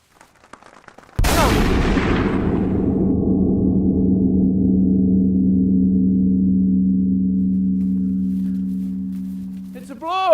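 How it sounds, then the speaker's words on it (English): A shotgun fires a single loud blast at a flushed game bird outdoors. The sharp report is followed by a long, slowly fading ringing tail, and a faint chirp sounds at the very end. "That was a hell of a shot, son."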